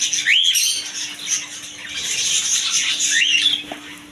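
Caged birds and pigeons, including Lakha pigeons, at a bird shop, giving repeated chirps and squawks with brief rustling of wings, fairly close and steady throughout.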